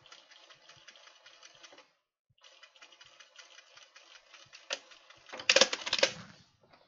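A sewing machine stitches in the ditch on a Hawthorne dress with dark thread and a large needle, running in steady rapid bursts, pausing briefly, then resuming and ending with a louder, harsher stretch.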